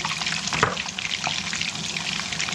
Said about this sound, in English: put the oil in and then added the meatballs when the oil had come to temperature